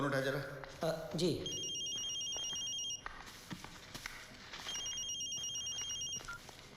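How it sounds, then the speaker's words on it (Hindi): A telephone rings in two bursts of electronic trilling over a room with scattered knocks and rustling, followed by quieter background noise. "फोन उठा जरा"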